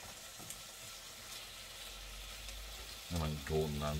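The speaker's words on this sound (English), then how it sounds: "Isn't that sizzling?" Food frying in a hot pan, giving a steady hiss of sizzling that runs throughout, with brief louder clatter and voices near the end.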